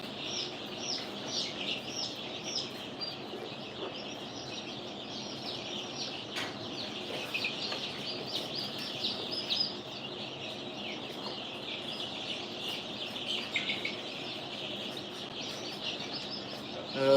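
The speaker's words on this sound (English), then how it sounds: "The guinea noise drives me crazy" Harsh, repeated guinea fowl calls chatter steadily from a flock, a busy squawking chorus that continues throughout without a break.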